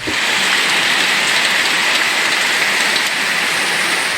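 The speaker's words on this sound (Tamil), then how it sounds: "திருப்பத்தூர் சுற்றுவட்டார பகுதிகளில் சூறைக்காற்றுடன் கனமழை பெய்ததால் சாலைகளில் மழைநீர் பெருக்கெடுத்து ஓடியது." Heavy rain driven by strong wind, with rainwater running over roads around Tirupattur: a loud, dense, unbroken downpour hiss fills every moment.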